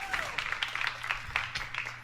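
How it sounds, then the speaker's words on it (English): An esports arena crowd at an ELEAGUE 2016 Counter-Strike event cheers and claps for Cloud9, a dense, steady roar of applause heard under a commentator's talk. "crowd is getting hyped for Cloud9 right now"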